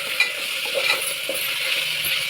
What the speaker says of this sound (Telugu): ఇది బాగా మగ్గే వరకు మనం ఫ్రై చేసేసుకుందాం